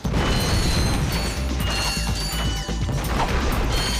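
An explosion in the Ratchet and Clank video game bursts into loud, dense crashing and metallic clattering that keeps rumbling throughout, close and chaotic, with no voices.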